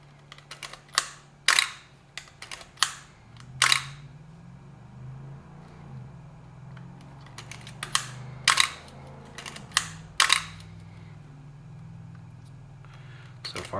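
Repeated crisp shutter clicks come from a $40 used Craigslist camera being run through its speeds, firing in irregular bursts up close, some in quick pairs, over a low mechanical hum.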